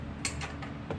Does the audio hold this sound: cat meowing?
no